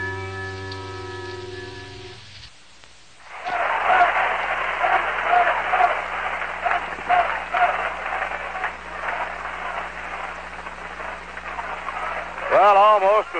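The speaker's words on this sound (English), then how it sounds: "you can hear the Let's Go Mets chant" A Shea Stadium crowd at a Mets–Cubs game fills the air with a broad, sustained roar and rhythmic chanting, heard from a distance through an old broadcast after a brief tonal jingle and pause.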